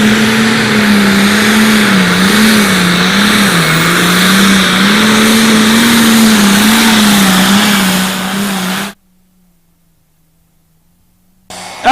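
A light limited pro stock pulling truck makes a run at an outlaw truck pull in Concord, Nebraska. Its engine roars loud and close with a steady, wavering drone, then cuts off abruptly near the end.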